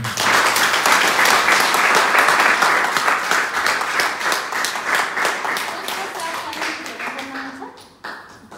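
A class audience claps together in a dense burst of applause that stays loud, then thins and fades away, ending with a few scattered claps.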